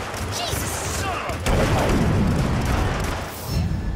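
Gunfire in the video game Hitman, heard as dense bursts and booms that thicken midway, mixed with game sounds over a continuous rumbling background.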